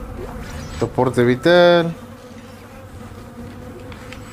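Flies buzz close by in the horror video game Dead Space, a short loud droning hum over quieter game ambience, with a voice speaking briefly.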